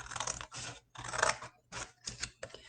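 Safety scissors cut out a paper star in close, crisp snipping bursts, four or five rhythmic runs of rustling cuts separated by short pauses.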